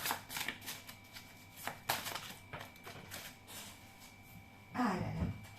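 Oracle cards are shuffled for a reading, giving a quiet run of soft riffling and flicking bursts up close, with a brief louder rustle near the end and no talking.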